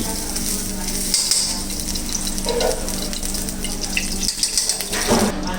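Vegetables frying in ghee in a soup pot for a vegetable soup give a steady, close sizzle with watery hiss and a few scraping stirs, with no talking.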